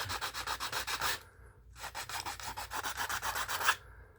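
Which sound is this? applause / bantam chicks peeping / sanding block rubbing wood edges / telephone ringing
sanding block rubbing wood edges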